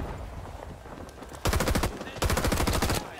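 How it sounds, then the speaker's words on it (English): Heavy gunfire and explosive artillery fire in the Vietnam War shooter Rising Storm 2: Vietnam, starting faint then erupting into two loud, rapid bursts of repeated shots close by. "I've managed to sneak in under the cover of a massive artillery barrage"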